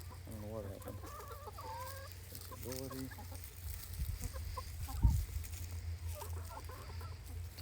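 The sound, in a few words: free-range chickens clucking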